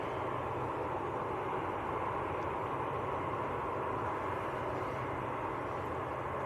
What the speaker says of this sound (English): Jet 2 A330 taxiing out.